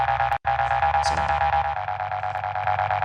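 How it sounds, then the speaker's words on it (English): A buzzy synth tone with distortion in FL Studio holds a steady note with a pulsing low bass line beneath, briefly cutting out then resuming gritty and loud. "Then some distortion."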